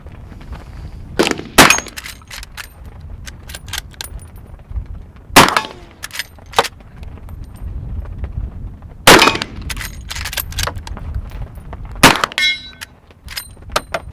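Zinc bullets fired at steel targets: sharp gunshots each followed by a bright metallic clang and ringing ding, several spaced shots over a quiet outdoor background, some in quick pairs.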